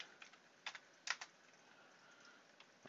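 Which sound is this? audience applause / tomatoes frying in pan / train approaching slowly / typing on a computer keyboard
typing on a computer keyboard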